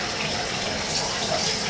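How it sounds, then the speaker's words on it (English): A hot water tap runs at full bore, a loud, steady gushing splash of water pouring continuously and close by with no break. "I'm going to turn on my hot water full bore"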